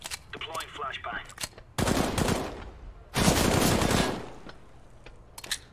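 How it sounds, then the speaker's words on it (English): Loud bursts of gunfire and explosive blasts in a competitive video game shooter around a flashbang being thrown, two heavy sustained bursts separated by lighter clicks and shots, with faint game sounds in between. "Deploying flashbang."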